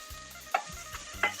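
Minced pork for pad kaprao stir-fried in a pan, with soft sizzling broken by three quick, sharp scrapes of a spatula against the metal, close and fairly quiet.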